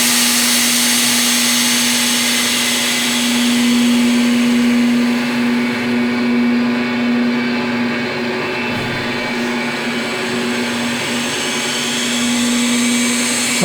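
Stretham Old Engine, a historic Fenland steam pumping engine, turning slowly at one revolution per minute, giving a steady low mechanical hum and drone with faint whirring, continuous and fairly loud throughout.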